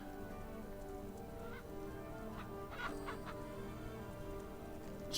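Chickens cluck at a petting zoo in the Bee Simulator video game, several short fowl calls rising midway over a steady bed of game ambience and music, fairly faint, with no talking.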